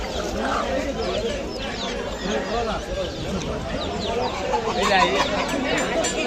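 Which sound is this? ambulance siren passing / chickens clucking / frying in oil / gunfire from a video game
chickens clucking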